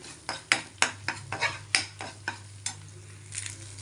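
A seasoned egg with pepper fries in a pan under a soft, steady sizzle. A spatula clacks and scrapes against the pan in a quick, uneven rhythm of about a dozen strikes, close and distinct.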